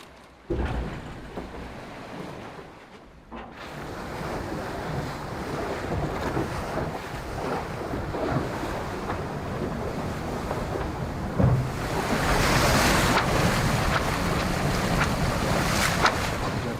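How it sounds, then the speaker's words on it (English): Aboard the racing sailboat Biotherm during The Ocean Race Europe 2025, wind roars across the microphone as one to two metres of swell breaks against the bow. The rushing water and gusts stay loud and steady, rising further toward the end, with no talking. "The sea state is just horrible. Look at this 1 or 2 meters of swell just in the nose"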